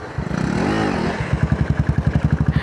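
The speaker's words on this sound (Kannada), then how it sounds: "ಇವನ್ ಬೈಕಲ್ಲಿ ಒಂದು ಸಣ್ಣ ವೀಲಿ ಮಾಡುವ." A motorcycle engine revs hard while the rider attempts a wheelie on a public forest road on the way to Agumbe, one rising and falling roar followed by a rapid pulsing series of throttle blips, loud and close.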